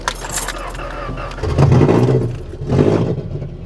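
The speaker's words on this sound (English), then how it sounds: "So now I'm gonna turn on the car." A car with a stolen catalytic converter is started and revved, a loud, harsh, rough engine roar swelling in two bursts after a brief rattle, heard close up.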